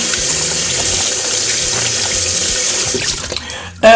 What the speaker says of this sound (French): Donc là, je rince un tout petit peu, comme ceci là.